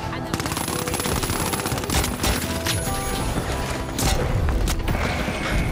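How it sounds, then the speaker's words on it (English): Loud, continuous automatic gunfire in the shooter game The Finals, fired through a red dot sight, with rapid shots running nonstop over mechanical clatter. "Oh my God, this gun absolutely shreds."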